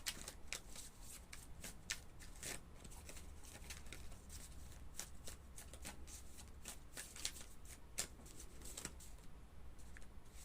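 Tarot cards being shuffled by hand in a quiet room, soft rapid riffling flutters and light slaps repeating in bursts at close range, with no talk.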